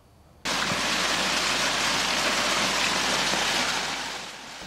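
Heavy rain and hail from a violent summer storm with strong wind, hailstones about 7 cm across, in Slovakia in 2005. A dense, steady roar of pounding precipitation starts abruptly and stays loud throughout, easing slightly near the end.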